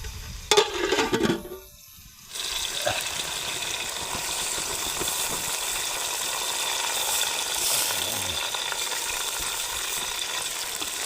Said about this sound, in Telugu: ఇప్పుడు కాసేపు మూత పెట్టేస్తే మెత్తగా ఉడికిపోవాలి ఉల్లిపాయలు